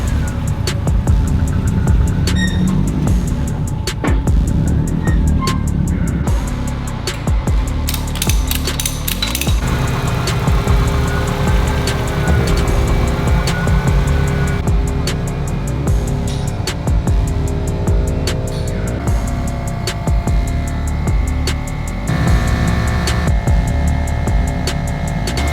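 A fully built Subaru STI engine runs on a dyno, revving loud and sustained toward about 7500 rpm, its pitch sweeping up and down with raspy mechanical clatter throughout.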